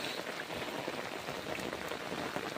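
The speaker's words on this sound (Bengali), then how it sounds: "আর বৃষ্টি জোরে আসতেছে।" Heavy rain pours steadily over flooded village paddy fields in Bangladesh after a night of downpour, a dense, even hiss of drops heard alone and close.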